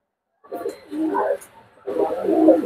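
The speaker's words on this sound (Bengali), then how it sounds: "এক জোড়া আর এক জোড়া আছে বাগদাদি" A pair of Baghdadi pigeons, male and female, coo nearby in two soft, throaty bursts separated by a short pause.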